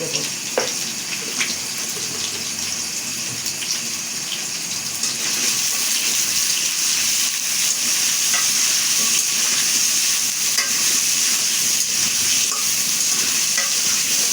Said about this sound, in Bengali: এইভাবে করে লাল লাল করে ভাজিয়ে নেবো আমার আলু ভাজি হয়ে গেছে